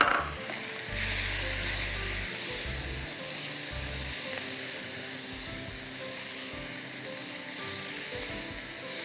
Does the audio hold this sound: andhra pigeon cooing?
no